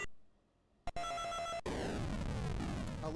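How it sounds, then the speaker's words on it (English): A video game character gives off a dial-tone-like electronic noise: steady tonal hums start abruptly after a brief silence, then give way to a dense, loud, harsh buzzing drone that holds to the end. "I love that dial tone noise he makes."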